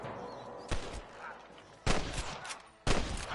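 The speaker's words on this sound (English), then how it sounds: "I can hear more gunshots." In the Western video game Red Dead Redemption, three sharp gunshots ring out about a second apart over a low ambient background.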